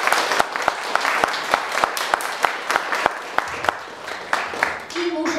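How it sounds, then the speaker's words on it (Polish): Audience applause at the opening of a women's portrait painting exhibition: a steady wash of many hands clapping close by, with sharp individual claps standing out through the whole stretch before it thins at the end. "Wielkie brawo jeszcze raz."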